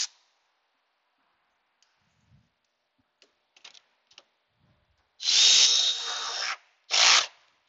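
Power tool tightening bolts on AC compressor brackets during a compressor replacement, a few faint clicks and ratchet ticks followed by two loud close bursts of drill whirring, the first longer and the second short, with no talking.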